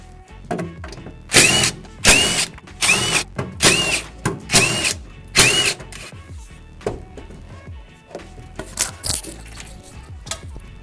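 A handheld power drill spins out screws while a Nissan S13 is stripped to bare metal, giving about six loud, close whirring bursts of roughly half a second each at an even pace, then scattered clinks and small handling sounds, with no talk.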